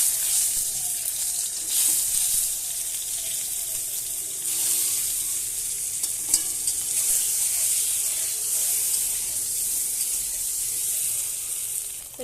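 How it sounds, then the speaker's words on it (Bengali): A boiled egg frying in oil in a wok, a bright hissing sizzle that runs on steadily with a few small pops and shifts, and no talking. "প্রথমে আমি ডিমটা সিদ্ধ করে রেখেছিলাম, এবার আমি ভেজে নেব"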